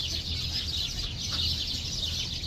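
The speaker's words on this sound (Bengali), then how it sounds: "মুরগি আছে, দেখেন কি সুন্দরভাবে আসছে" Chickens cluck and call steadily over a constant hiss of other birds, with poultry and ducks kept inside a date palm orchard in Saudi Arabia; no one speaks.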